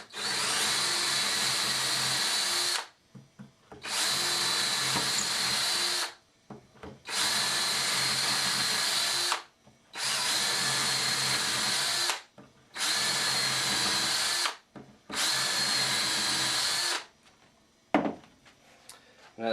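A power drill whirs in six long bursts of about two seconds each, drilling bridge pin holes, separated by short pauses, close and loud, with a few clicks after.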